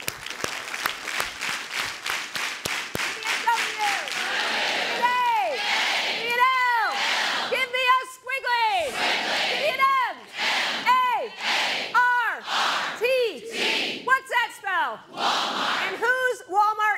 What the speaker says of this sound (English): I want to start this meeting the way we do with a Walmart cheer